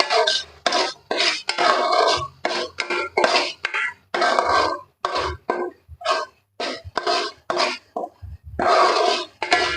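Spatula stirring spices frying in a pan for Andhra fish curry, a dense run of rhythmic scraping strokes, loud and close, repeating steadily with brief gaps.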